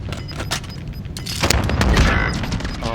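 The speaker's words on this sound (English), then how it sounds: "Oh, RPG." Heavy RPG blast and surrounding gunfire in Call of Duty: Warzone, a dense rumbling explosion swelling midway over a battle soundscape, loud and close, with faint game voice callouts.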